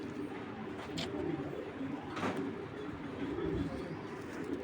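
Pigeons cooing close by in a loft with cages, low rolling coos repeating through steady background noise, a pair including a large hen.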